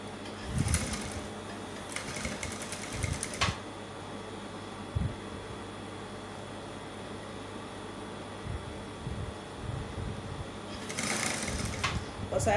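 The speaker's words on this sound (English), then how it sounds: "So to avoid any pointy edge, just need to sew along the curve." Sewing machine stitching three layers of lace on a bustier dress along a curve, running in a few bursts with steady whirring between, close by, with some handling noise.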